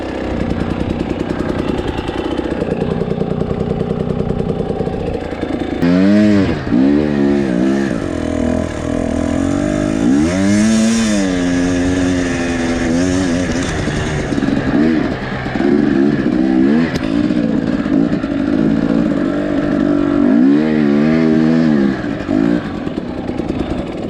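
A two-stroke dirt bike rides slowly through sand on a hard trail, its engine droning close and loud throughout, with repeated rising and falling revs as the throttle opens and eases; nobody speaks.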